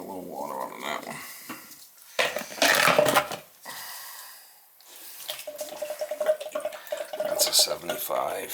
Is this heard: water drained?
yes